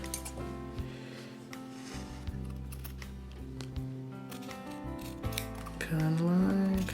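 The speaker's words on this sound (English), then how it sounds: "so now I'm gonna turn it over so I can cut" Fabric is cut along a straight grain line with scissors, giving soft repeated snips and blade slides at close range, with a faint tonal hum underneath.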